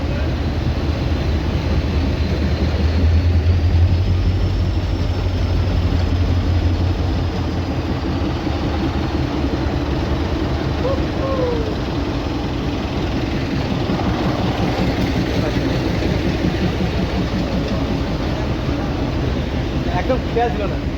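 Darjeeling toy train sitting with its engine running, a steady low rumble and hum lasting throughout, with people talking nearby over it.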